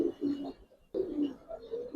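A pair of Giribaz silver pigeons in breeding mode coo twice in low, rolling bursts with a short pause between, close to the microphone.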